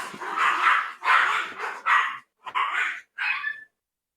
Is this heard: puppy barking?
yes